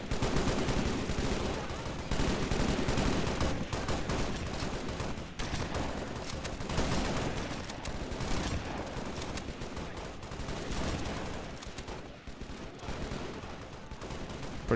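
Dense, continuous gunfire in the Halo: Reach Call to Arms mod, a UNSC last stand on Reach, with rapid overlapping shots and bursts throughout and no letup.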